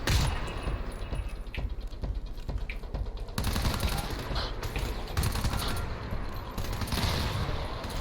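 Automated turrets in the game GTFO firing in rapid, sustained bursts, a dense rattle of gunfire that runs without a break and grows louder partway through, with faint voices beneath.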